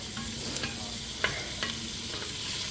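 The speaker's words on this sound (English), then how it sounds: "get this going till they start going translucent" A whole Spanish onion frying in a pot for stewed chicken, giving a steady soft sizzle with a few sharp clicks of stirring spread through the short stretch and no one speaking.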